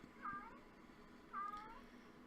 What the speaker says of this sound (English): This cat who's decided that right now is a good time to go into heat?